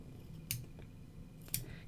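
Scissors snip crocheted yarn ends after a double knot on a small crocheted soccer ball keychain, two crisp close cuts about a second apart in a quiet room.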